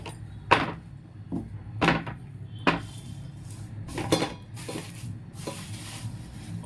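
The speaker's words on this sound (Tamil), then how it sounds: "அது மாதிரி இன்னொரு பாக்ஸ் எடுத்துக்கிறேன் இதில் வந்து கே கேரட் ஸ்டோர் பண்ணிக்கலாம்" A plastic storage box for carrots is handled in a kitchen, giving a series of sharp hollow knocks and clacks at irregular intervals, some close together, with light rustling between them.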